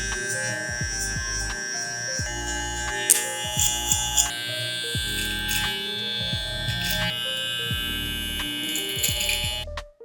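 Electric hair clippers cut hair during a gentleman's barber haircut, with the two-guard lever open. A close, steady motor buzz alternates with repeated short strokes as the blade passes through hair.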